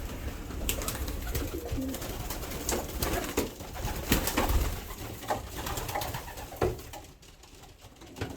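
Pigeons coo steadily from their perches, close and continuous, with soft rustling and a few wing flaps mixed in.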